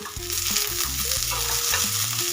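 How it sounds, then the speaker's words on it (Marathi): Onion and sesame seeds roasting together in hot oil in a pan, a steady loud sizzle with stirring scrapes throughout and some tonal background music, no voices. "अशा पद्धतीने सर्व साहित्य आपल्याला एकत्र तेलामध्ये भाजून घ्यायचंय"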